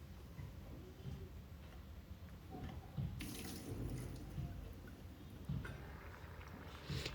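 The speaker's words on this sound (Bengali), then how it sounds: "আমি শিলনোড়াটা ভালো করে ক্লিন করে নিচ্ছি" Running tap water splashing over a stone grinding slab (sil-nora) as it is washed in a kitchen, a faint steady flow with occasional clinks and scrapes.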